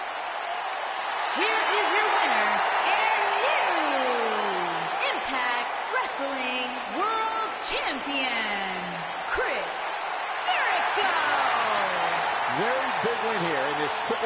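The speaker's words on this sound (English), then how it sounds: "Listen to this Detroit crowd." A Detroit arena crowd in the WWE 2K19 wrestling game keeps up a steady wash of cheering and applause, with commentary voices talking over it throughout.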